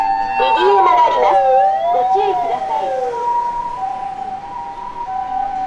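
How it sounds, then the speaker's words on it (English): Several emergency sirens, including Japanese ambulances, wail at once, their pitches sweeping up and down and overlapping before settling into a steadier, fainter two-tone call. "And the sirens, it's very dynamic"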